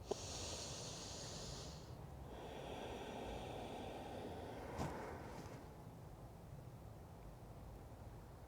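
Slow, steady breaths during a gentle yoga practice, faint and close, with soft hissing inhales and exhales drawn out over several seconds in a quiet room.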